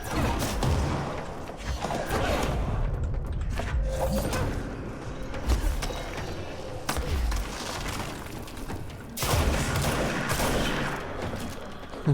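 Gunfire in the video game Control: bursts of shots and crashing impacts crackle loudly through a busy combat scene, with repeated clusters of reports and mechanical clatter.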